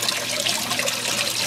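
Water pours steadily onto a gold prospecting clean-up table, a short, continuous close-up splash and trickle with no voices over it.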